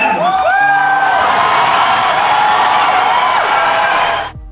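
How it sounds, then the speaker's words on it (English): A large concert crowd at a show roars with loud, sustained cheering, whoops and shouts. The noise holds steady for several seconds, then cuts off abruptly. "The crowd responded with cheers"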